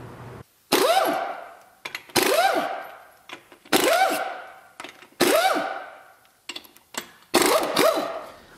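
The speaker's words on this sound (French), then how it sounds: "un pistolet à air comprimé pour défaire les roues" A pneumatic air impact gun removes the wheels from a raised car during a front brake pad change. It fires in about six loud, close rattling bursts, each with a rising whine and a short pause between them.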